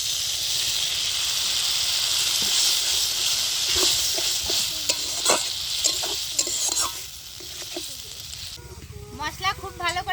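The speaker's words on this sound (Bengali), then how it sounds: "মশলা ধোয়া জলটা দিয়ে আর একটু ভালো করে কষিয়ে নেব।" Spice paste for Bengali aloo kasha being stir-fried in a pan with spice-rinsing water, giving a bright continuous sizzle broken by spatula scrapes and taps, then softer bubbling toward the end.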